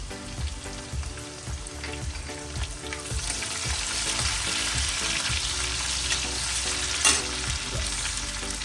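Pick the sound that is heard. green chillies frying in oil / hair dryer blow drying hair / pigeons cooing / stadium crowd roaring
green chillies frying in oil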